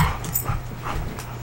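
Small pet dog whimpering and yipping softly, close by, in short uneven bursts over a low steady hum.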